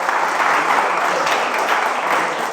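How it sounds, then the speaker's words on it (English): A live crowd at a game event applauds its participants, an even, continuous roar of many hands clapping at once, close and sustained without a break. "Let's give them a round of applause"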